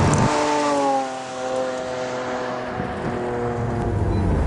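A V12 mid-engine Lamborghini Aventador revs hard on a skid pad, its engine note rising and falling in loud, close sweeps with harmonic whine, alone without talk.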